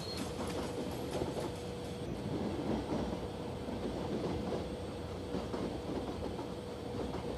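Steady rumble and rhythmic clatter of a train rolling along the track in Indian Train Simulator, slowing as it nears a station, continuous and close with no voices.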